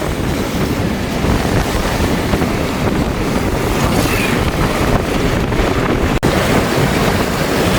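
Rough seawater surging over a flooded island street, a loud, continuous roaring wash of churning water mixed with heavy wind buffeting the microphone throughout.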